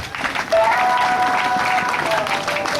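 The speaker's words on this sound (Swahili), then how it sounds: "Wapigieni makofi tafadhali" A school crowd gathered for a health talk claps for the board members present, loud dense applause that builds and holds, with a voice faintly underneath.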